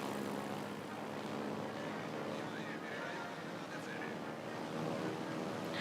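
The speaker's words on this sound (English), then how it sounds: "time for the torpedo aircraft" Torpedo aircraft engines from World of Warships: Legends drone in a steady, broad wash for several seconds, a continuous mid-level hum with no breaks, with a voice faintly underneath.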